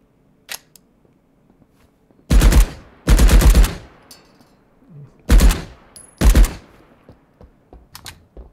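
Weapon fire in the video game Marauders: four loud, sharp bursts of gunshots with quick decays, separated by brief gaps, with faint clicks between them.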